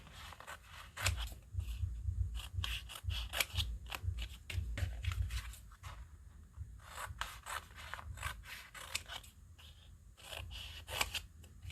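Scissors cut out sheets of paper, a steady run of close snipping and rasping blade strokes in quick bursts with a short pause midway, no talking.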